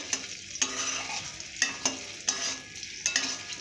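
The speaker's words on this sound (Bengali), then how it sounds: "আমগুলো হালকা করে ভেজে নেব।" Mango pieces frying lightly in mustard oil, a steady sizzle with several sharp clinks from a spatula or spoon stirring and scraping the pan, no voices.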